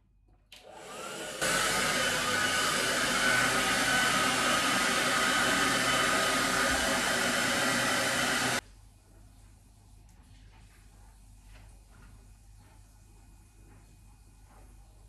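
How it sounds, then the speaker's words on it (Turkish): A handheld hair dryer blows loudly and steadily for about seven seconds while the hair is given light volume, then cuts off abruptly, leaving a quiet room with faint small sounds. "onları da fön makinesiyle şöyle hafif hacimlendireceğim"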